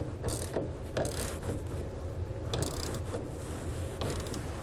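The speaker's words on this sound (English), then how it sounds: "We can now also tighten down the tensioner bolts that we put into the tonneau cover on the bulkhead rail." A ratchet wrench tightens the tensioner bolts of an Access Limited Edition soft roll-up tonneau cover on the bulkhead rail of a 2019 Chevrolet pickup, giving close, repeated bursts of rapid clicking over a steady low background, with no talking.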